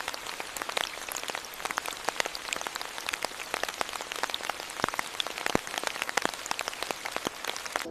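Steady rain patters down in a dense, even wash of drops, with sharper individual plinks standing out now and then, constant and fairly close with no voices.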